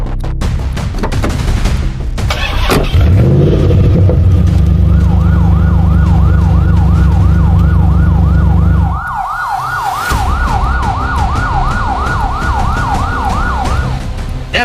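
An ambulance siren wails in a loud, rising and falling cycle while the vehicle drives, over a low engine rumble and road noise.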